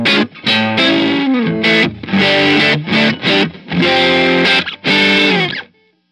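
An electric guitar played on the neck pickup through a Bad Cat Hot Cat 45-watt amp rings out in loud, driven chords and short phrases separated by brief gaps, then stops into silence.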